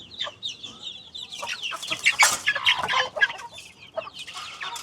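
Several hens cluck and chirp in quick, irregular bursts close by, their calls overlapping without pause.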